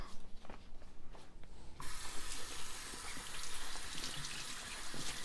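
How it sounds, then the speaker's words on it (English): A kitchen tap suddenly opens to a strong, steady rush of water as a hemp milk straining bag is rinsed beneath it, after a few quieter handling sounds. "so then I rinse it"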